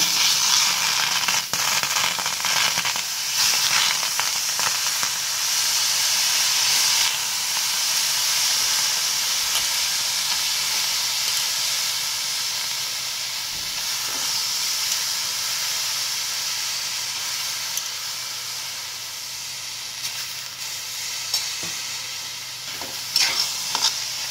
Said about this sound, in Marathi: हे घेवडे मोठ्या गॅसवर छान भाजून घ्यायचे